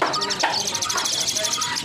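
Asian pied mynas (jalak suren) in cages at the Pramuka bird market give rapid, repeated bright chirping calls that continue throughout, close and loud, over a busy background.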